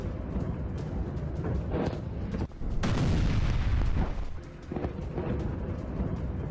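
Missile attack footage carries continuous heavy rumbling blasts and booming, loud and dense throughout, with a brief dip before a stronger surge of explosive roar near the middle.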